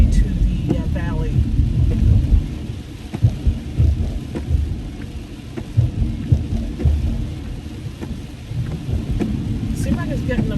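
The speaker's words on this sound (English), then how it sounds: "It's raining harder, as you can see." Rain heard from inside a car driving near the beach in Pacific Palisades: a steady wash of rain and road rumble with deep low thumps and swells throughout, without clear speech.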